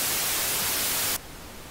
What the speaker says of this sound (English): You have white noise and pink noise.